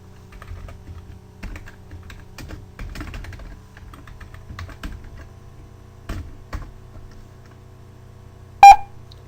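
Rapid keyboard typing clicks, then a single short, sharp electronic beep near the end: a computer's ASCII bell character (character 7) printed by a C++ program.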